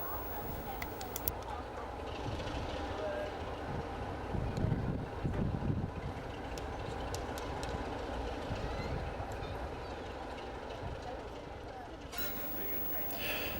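A diesel locomotive on the Battlefield Line heritage railway rumbles along slowly at a distance, a steady low engine drone with faint rail clatter, and no voices over it.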